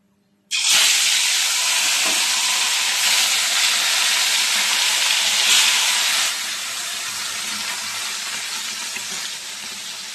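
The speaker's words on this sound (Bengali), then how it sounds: "সবগুলো মাছ ভেজে নেবো।" Tilapia fish, cleaned and rubbed with turmeric and salt, frying in hot oil; a loud, steady sizzle starts abruptly and holds throughout, easing slightly in volume toward the end, with no talking.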